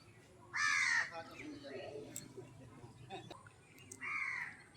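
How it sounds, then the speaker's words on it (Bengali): Crows caw in a rural village with rice fields nearby: a loud harsh call near the start, a second similar caw near the end, and fainter bird and ambient sounds between, with a voice talking softly in the background. "আর এই কাকগুলো কিন্তু কা কা করছে সকাল থেকে"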